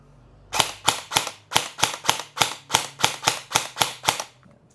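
An airsoft rifle fires on full auto, giving a steady string of about a dozen sharp, snappy clicks at an even quick rhythm, close and clear over near silence.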